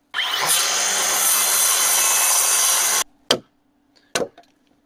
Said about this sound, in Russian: чуть было доску не отпилил